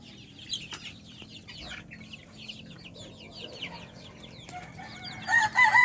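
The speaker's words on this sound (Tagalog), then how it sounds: "Yan yung sisiw." Rhode Island Red chickens and chicks in a farm setting: rapid, high, chirping peeps from chicks run continuously at moderate level, with a louder clucking hen call near the end.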